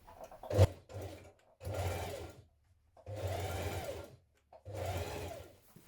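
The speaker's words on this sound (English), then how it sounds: "Now sew your sleeve to your front panel on the other side." A home sewing machine runs in three steady bursts of a few seconds each, after a sharp click, as a hoodie sleeve is sewn to the front panel for a Simplicity 9240 pattern. The motor is close and clear with quiet pauses between runs.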